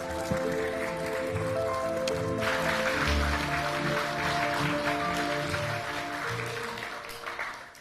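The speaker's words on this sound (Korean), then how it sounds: "여러분 환영의 박수로 맞이해 주시기 바랍니다" Welcoming applause fills a large Democratic Party candidates' rally hall for the 22nd general election, with a dense crowd roar and music underneath throughout.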